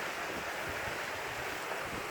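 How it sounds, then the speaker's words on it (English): Breezy wind blowing through an early spring garden with snowdrops, a steady rushing buffet on the microphone throughout, with no other clear sounds. "It's a little bit breezy."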